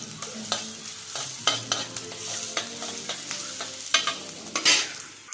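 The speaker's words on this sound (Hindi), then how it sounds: "तो मैं अब इसे अच्छे से जो है वो सौटे कर लूँगी" Onions sautéing in a pan until golden brown sizzle softly while a spoon stirs and scrapes in repeated taps, close and steady with no voice.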